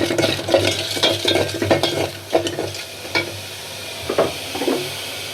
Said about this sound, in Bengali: তেল চিংড়ি মাছটা সুন্দর করে লাল লাল হয়ে গেছে